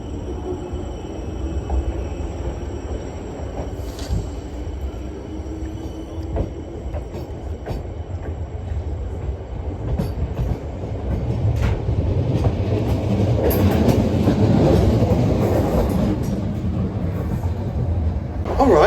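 Class 455 electric train pulling out of London Waterloo, heard from inside the carriage: a steady low rumble and rhythmic wheel clatter that swells louder as it gathers speed, with faint squeals.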